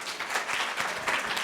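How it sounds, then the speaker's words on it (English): Audience applause for a team at a women's leadership event, a dense, steady wash of many hands clapping that holds at an even level for the whole stretch with no voices on top. "One more round of applause for this incredible team."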